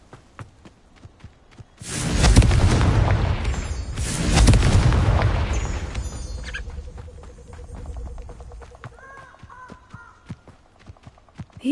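A Confringo spell explosion in the video game Hogwarts Legacy sounds as two loud, booming blasts about two seconds apart, with rumbling debris that fades out. Faint footstep-like clicks and small game effects come before and after.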